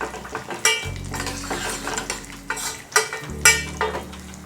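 Raisins fry in a pan, with a light sizzle under clinking spoon strokes and scraping against metal, several sharp knocks rising above the steady background.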